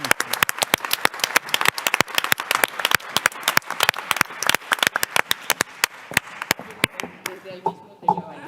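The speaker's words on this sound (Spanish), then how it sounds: "Vamos a darle un aplauso" Audience applause at an employment congress, a dense burst of clapping from many hands that holds steady, then thins out and fades near the end.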